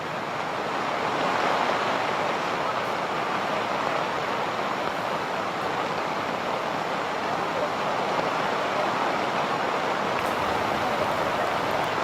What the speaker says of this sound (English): Young and old braving the downpour with their umbrellas and ponchos.